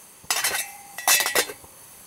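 A Snow Peak 700 titanium pot and its lid clink together twice in quick succession, bright metallic rattles that sound close and moderately loud against a quiet outdoor background.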